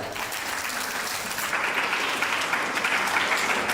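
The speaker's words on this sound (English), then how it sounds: "Give them a round of applause." Audience applause fills a lecture hall at a municipal corporation local government lecture, steady dense clapping throughout that swells slightly in the second half.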